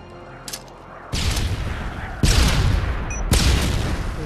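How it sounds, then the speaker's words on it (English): A stun grenade tossed and detonating during a search-and-destroy round of a first-person shooter, with loud blasts and sharp bursts of gunfire erupting in quick succession, close and heavy. "Toss the stun grenade."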